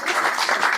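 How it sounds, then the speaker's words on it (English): Applause from an audience at a business networking curry club evening, a brief steady wash of clapping with no clear individual hands. "A round of applause for that."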